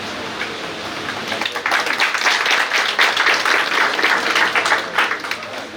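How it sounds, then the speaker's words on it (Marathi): An audience at a World Pharmacists Day session in Amravati breaks into steady, dense applause that swells after the first second and holds strong to the end, with no talking over it. "एकदा पुन्हा जोरदार टाळ्या झाल्या पाहिजे"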